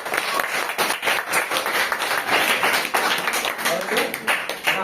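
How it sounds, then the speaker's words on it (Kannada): Children clapping loudly after a correct answer in a primary-school quiz: dense, uneven applause that runs steadily for several seconds, with voices mixed in. "ಜೋರಾಗಿ ಚಪ್ಪಾಳೆ."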